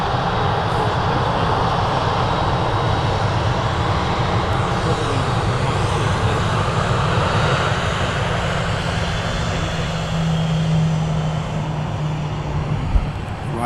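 A Turkish Airlines airliner at Manchester Airport powers along its takeoff roll, a steady, loud broadband jet roar holding throughout with a low rumble beneath.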